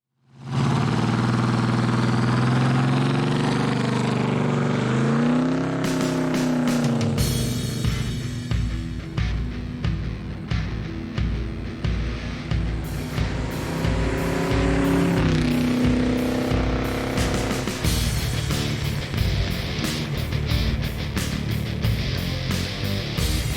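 A 1982 AMC Eagle engine runs steadily and loudly close by for the whole stretch, with revving rises and falls and a rough, rattly idle character throughout.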